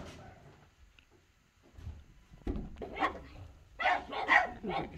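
Pugs bark in a quick flurry of sharp yaps, close by outdoors during a snowstorm, after a quieter stretch with faint rustling.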